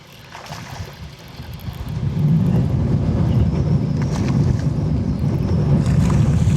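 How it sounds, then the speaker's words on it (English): Strong wind roars across a fishing boat on open water, a loud, steady low rumble that builds after a couple of seconds and keeps buffeting the microphone, with no talking. "Wind is tornadoing in here"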